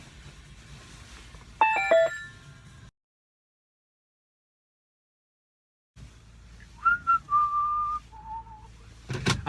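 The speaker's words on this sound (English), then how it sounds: "who's ringing now?" A short electronic ringtone melody plays, cuts to silence, then resumes with sustained tones and a sharp noise at the end.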